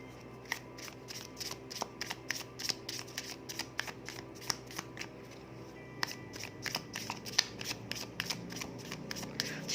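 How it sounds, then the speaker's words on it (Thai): Tarot cards being shuffled by hand, a long run of quick crisp riffling snaps in a steady rhythm, close and clear with no talk. "ในช่วงที่กำลัง สับไพ่อันนี้นะคะ"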